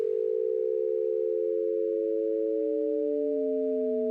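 A steady sine-wave tone that splits into modulation sidebands, the upper and lower partials spreading gradually apart from the center pitch; a clean, continuous electronic hum with no voices.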